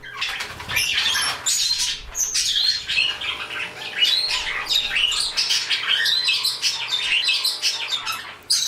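Chirps, squawks and tweets from a pet green lineolated parakeet and a budgie fill the space, busy and close, with overlapping calls running throughout and no talking.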